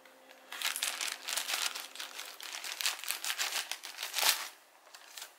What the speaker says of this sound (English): We're gonna cut it open now. I have Adela's pink scissors here